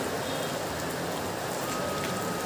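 Steady rain falls in a dense, even hiss with faint pattering drops on nearby surfaces, continuous and fairly loud, with no voices.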